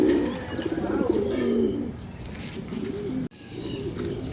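Pigeons coo close by in low, throaty rolling calls, several birds overlapping, with a few soft chirps and a brief flutter of wings.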